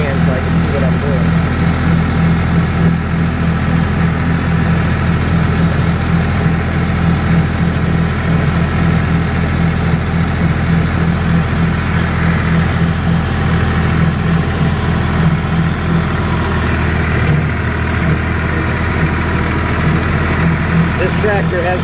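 A small engine idles steadily nearby with a low, throbbing rumble that holds constant throughout, and no other sounds stand out.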